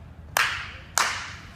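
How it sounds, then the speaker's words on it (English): Two sharp hand claps about half a second apart serve as a timing cue during a baseball hitting drill at a camp, crisp and close with brief reverberant tails over quiet background. "I want you to separate on the clap. Separate on the first one, swing on the second one."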